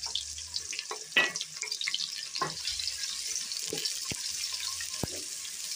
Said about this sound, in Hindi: ऑयल हमारा गर्म हो चुका है। अब हम इसमें प्याज ब्राउन करेंगे।